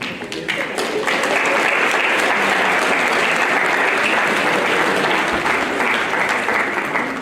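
Sustained, loud applause fills a high school graduation ceremony, a dense wash of clapping from a large crowd that holds steady throughout without letting up.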